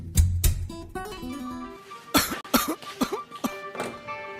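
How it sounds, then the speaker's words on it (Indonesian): A man coughs heavily in a run of harsh, chesty bursts, a couple of deep rasping coughs first, then a quick cluster of repeated hacks, close and loud with no talk. "Bapak batuk parah nih."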